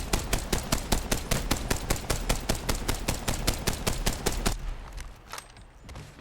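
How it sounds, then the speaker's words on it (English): Rampage LMG in Apex Legends fires a fast, evenly spaced stream of loud shots at a target for about four and a half seconds, then stops, leaving only faint residual noise. "Okay, I think I'm done shooting at that target."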